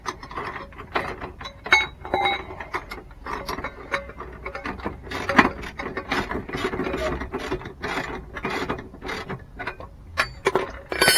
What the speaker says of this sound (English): we're just going to tighten them up a little bit, not too tight